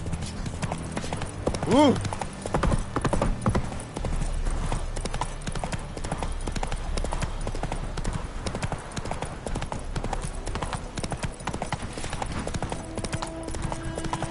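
Roach, a horse in the video game Witcher 3, gallops with steady clip-clop hoofbeats running through the whole stretch, with a brief whinny early on and people speaking over it.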